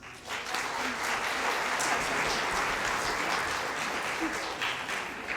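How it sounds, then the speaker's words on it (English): A school concert audience gives another round of applause for a combined junior high band, steady crowded clapping that rises quickly and stays loud and even throughout. "So please give them another round of applause."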